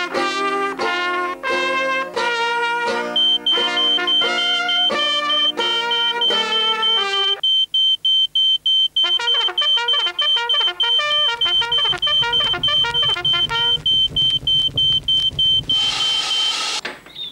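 A 1996 Danish TV advert for fire extinguishers and smoke alarms carries repeated electronic beeps and tonal bleeps in rhythmic patterns, loud and alone, ending with a burst of noise.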